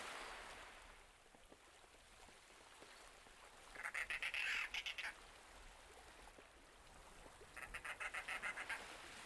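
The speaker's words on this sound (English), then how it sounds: "That one little bird makes so much noise." A small bird in the fantasy video game Verne: The Shape of Fantasy squawks in two loud, rapid bursts of harsh, raspy calls, standing out against a soft, steady ambient wash.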